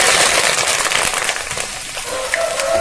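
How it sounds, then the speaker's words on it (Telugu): Curry leaves spluttering in hot oil with mustard seeds, dried chillies, garlic, cumin and lentils: a dense, loud crackling hiss full of rapid pops that eases slightly toward the end. "ఇది పట్పటా మని నూనె పేలుతుంది"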